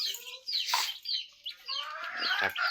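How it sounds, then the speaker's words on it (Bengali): Chickens and small chicks cluck and chirp close by at a farmyard feeding, several short calls overlapping in quick irregular bursts with brief pauses between. "বেশি মুরগি বাচ্চাগুলা এখন কি সুন্দর দেখা যাচ্ছে"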